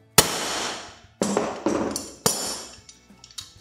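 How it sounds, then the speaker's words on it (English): A hammer drives a metal pin into the leg of a Coleman or Fleetwood pop-up camper bed: about six sharp, ringing metallic strikes at uneven intervals, close and loud, with brief quiet between blows. "Then hammer from the top."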